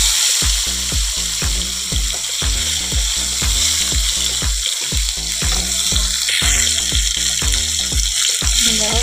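Tomato added to ground spices, onion, ginger, garlic, chilli and turmeric in a frying pan, loud constant sizzling and frying throughout with a repeating low pulsing rumble underneath.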